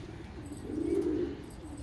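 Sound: pigeons cooing while being fed grain

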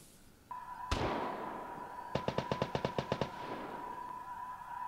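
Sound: gunshots in the video game Vigor

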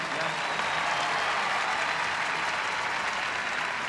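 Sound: audience applause for young people's testimony

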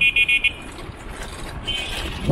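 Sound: car horn honking

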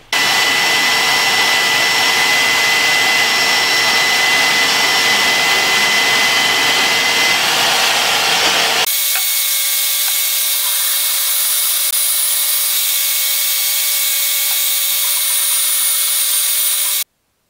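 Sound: portable band saw cutting O-1 steel knife stock

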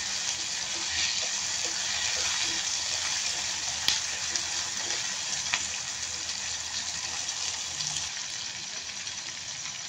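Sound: dried fish frying in oil

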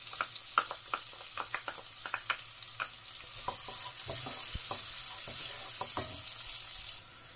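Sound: onions sautéing in oil in a pot

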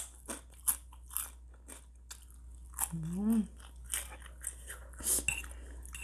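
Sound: eating spicy crispy pork rinds

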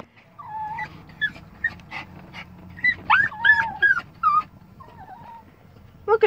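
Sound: dog whimpering and crying in a car

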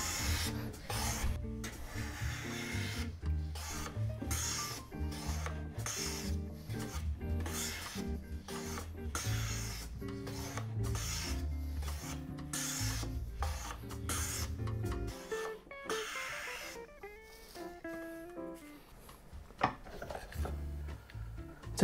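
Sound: hand plane shaving a wood surface

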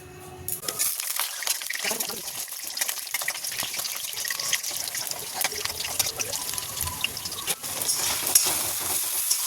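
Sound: frying vegetarian curry masala in a pan

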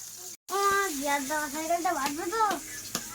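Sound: small pond fish frying in a pan

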